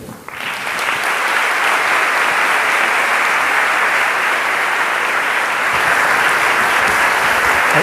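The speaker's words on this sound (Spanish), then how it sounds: "Señoras y señores, démosle un aplauso de bienvenida al Dr." A university auditorium audience at Universidad del Sinú claps a loud, sustained welcome for Dr. Martin Seligman, the dense applause rising quickly and holding steady throughout.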